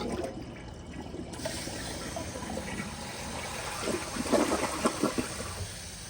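A 2004 Kohler Highline Ingenium toilet flushing, a steady close rush and trickle of water that swells slightly toward the end, with no voices.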